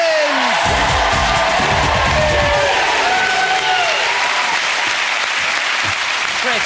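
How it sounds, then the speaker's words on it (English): Loud, sustained applause and cheering from a TV studio audience at a Saturday night entertainment show, a dense roar of clapping with whoops that holds steady throughout while talk rises over it partway. "We'll keep your applause going for Jim McDonald and Christopher Biggins."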